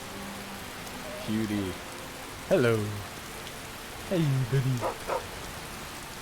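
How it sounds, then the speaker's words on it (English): Steady rain falls in the Wildlander modded Skyrim game, a soft, even hiss running through the whole scene while someone speaks a few short greetings over it. "So, canonically, for our character here, it's raining."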